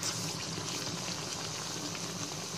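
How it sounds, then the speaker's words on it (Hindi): Medu vada, South Indian lentil fritters, dropping into hot frying oil, giving a steady, dense bubbling sizzle that fills the whole stretch at close range with no voices. "वड़ों को फ्राई करने के लिए हमने यहाँ पे ऑयल को गरम कर लिया है। अब हम इसमें वड़े ऐड करेंगे"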